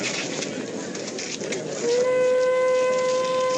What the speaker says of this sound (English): There's the train. Here she comes, fellas.